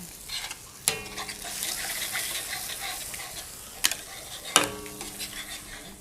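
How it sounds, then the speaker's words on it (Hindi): Food being stirred quickly in a pan for a Ramadan sehri meal, with a soft steady sizzle throughout and a few sharp metallic clinks of the spoon against the pan. "बस अब जल्दी जल्दी इसको मिक्स करना है"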